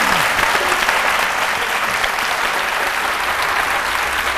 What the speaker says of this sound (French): nous allons lever une sorte de, je vais dire, de fumée d'applaudissements pour Fifi